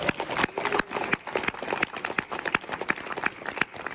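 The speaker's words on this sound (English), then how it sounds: "round of applause for Brandon" A convention panel audience at Sakura-Con applauds guest TurtleMe, also called Brandon, with a steady stretch of clapping from a crowd, individual claps standing out as sharp spikes through the few seconds of sound.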